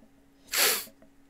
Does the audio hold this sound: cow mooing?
no